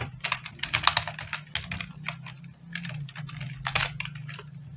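Rapid close-up clatter of a computer keyboard as code is typed for an Arduino C++ program, bursts of quick keystrokes with brief pauses, steady and alone without speech.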